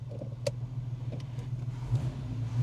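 A VW Passat R36 under way, with a steady low engine hum and road rumble throughout, a sharp knock near the start, fairly close and continuous.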